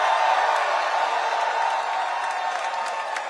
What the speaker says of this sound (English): Can I hear some excitement from the crowd for that fact?